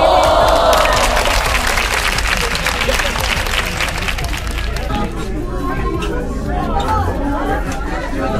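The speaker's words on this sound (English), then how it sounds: "Clap your hands!" At a birthday celebration on Catalina Island, people clap and cheer loudly at close range, with chatter and excited voices mixed in as the applause gradually thins out.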